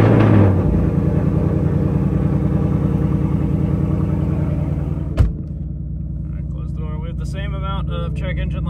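A Ford Mustang engine, car raised in the air, fires up and settles into a loud, steady idle with a deep rumble, broken by one sharp click midway before a voice begins talking over the running engine.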